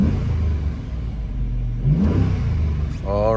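A police car's 5.7-liter V8 Hemi engine rumbles and revs up in short surges, fairly close, and a brief voice is heard near the end.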